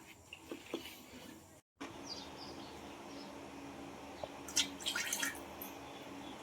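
Water dripping from squeezed wheat pulp for kurdai, a few faint, scattered drips and trickles over quiet room hiss, with a short clustered burst of drops toward the end.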